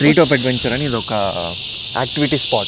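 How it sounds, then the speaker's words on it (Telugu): Crickets and other insects in a forest at a treetop adventure park in Illawarra, Sydney, chirring as a continuous high, steady drone beneath a person talking nearby. "మీకు వెనకాల సౌండ్స్ వినిపిస్తున్నది తెలియదు కానీ ఇక్కడైతే చాలా పురుగులు ఉన్నాయి"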